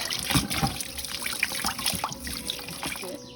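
Hair locs being rinsed under running water after a deep-cleaning wash: steady splashing and trickling flow, close and fairly loud, with no speech.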